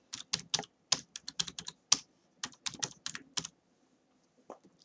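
Typing on a computer keyboard while entering values into an Excel spreadsheet, a close, clear run of distinct clicks in uneven bursts, then a pause and one last faint tap, with no talking.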